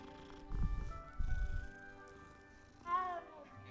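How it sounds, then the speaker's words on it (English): A cat in the Hogwarts Legacy video game purrs softly in two short, low rumbling bursts while being petted, followed by a brief mew-like call, quiet and close. "I can pet the cat."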